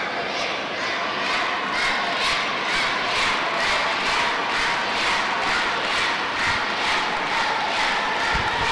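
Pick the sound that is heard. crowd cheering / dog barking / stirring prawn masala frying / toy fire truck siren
crowd cheering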